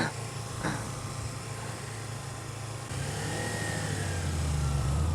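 A muscle car's engine revs up nearby, a steady mid-pitched roar that rises and grows louder after a short surge, heard alone with no talking.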